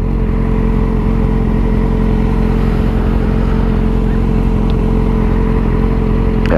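A Honda XRE motorcycle engine runs at night in São Paulo traffic, a loud, steady close-up drone with a constant pitch and little rise or fall.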